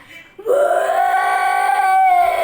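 A human voice imitates a monster's roar from the Pacify horror game. After a brief quiet start it swells into a loud, sustained wailing howl that holds steady for about two seconds.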